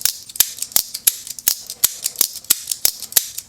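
Sharp, close metallic snaps come from a titanium-framed Demko AD20.5 folding knife being flicked open and closed about a dozen times in quick, irregular succession, with no voices.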